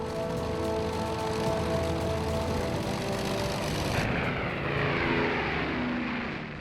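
Steady droning of a Short Stirling bomber's propeller engines, a continuous loud hum that holds level throughout, with no voices.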